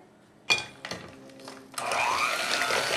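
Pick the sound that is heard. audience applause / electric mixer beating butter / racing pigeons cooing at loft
electric mixer beating butter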